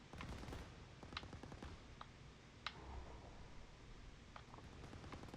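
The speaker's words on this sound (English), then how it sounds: "You want to just keep focusing on where the gunfire is coming from." Distant gunfire crackles in a Call of Duty WWII battle, scattered sharp shots and short bursts popping over a low rumbling ambience, faint and irregular throughout.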